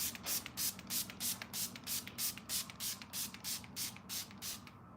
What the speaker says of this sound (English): Let's spray our faces. I'm gonna spray a lot